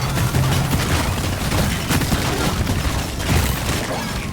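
Minigun fire from the Gunner in Deep Rock Galactic, a dense, sustained roar of rapid shots with booming impacts mixed in, loud and continuous throughout.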